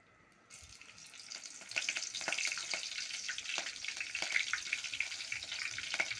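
A tempering sizzles in hot oil in a pan, bursting into loud, dense crackling after a brief quiet moment and staying busy and close throughout.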